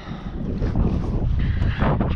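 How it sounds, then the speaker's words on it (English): Strong wind outdoors on a chilly day, buffeting the microphone in a loud, steady roar with gusty rumbles, heard close and without talk. "You can probably hear the wind."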